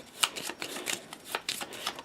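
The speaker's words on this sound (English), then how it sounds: "I'll have to take my discard pile," A discard pile of playing cards being shuffled in a card game, with several quick riffling bursts close by, repeating every half second or so with short pauses between.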